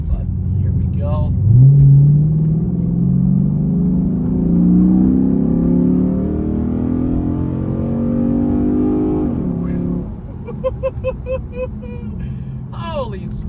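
Chrysler 300 SRT8 with 77,000 miles, a cold air intake and a Diablo Sport tuner, accelerating hard at three-quarter throttle: a loud, deep engine roar climbing steadily in pitch through a long pull, then shifting, with a voice talking over it.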